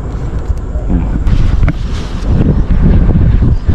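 Steady gusting wind roars and buffets the microphone during a fishing trip, a dense low rumble that swells and eases throughout without letup.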